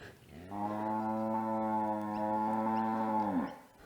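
A Droughtmaster cow in a paddock lets out a single long, deep moo lasting about three seconds, close and loud, tailing off at the end against quiet outdoor surroundings.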